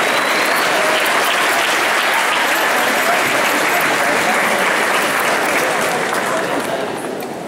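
Loud, dense audience applause fills a ceremony honoring a Rosario institution and its president, holding steady for several seconds before tapering slightly at the end.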